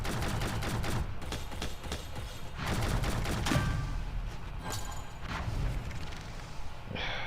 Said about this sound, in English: I'm shooting him right in the back.